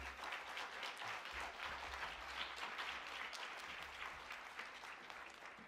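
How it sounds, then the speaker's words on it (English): An audience at a Los Angeles Measure M leadership honoring event gives a sustained round of applause for Supervisor Mike Antonovich, even rapid clapping heard from a distance at low volume without a break. "please join me in a round of applause for Mike Antonovich and what he's done"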